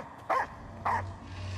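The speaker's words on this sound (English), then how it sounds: "Quiet down, Fido" A dog barks twice in the video game Layers of Fear 2, two sharp separate woofs over a low steady ambient hum.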